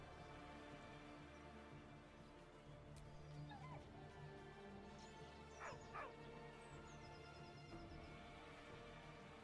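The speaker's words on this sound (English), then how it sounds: "He whines, but remains rooted by the corpse's side." A dog in the video game Baldur's Gate 3 whines and whimpers softly by a corpse, a few faint high yips over a quiet ambient game backdrop.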